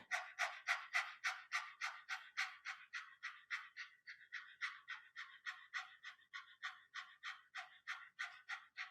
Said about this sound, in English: panting underneath the ribs, just on breath.